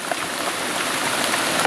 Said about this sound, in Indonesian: Mungkin ada suara hujan jadi nggak begitu jelas.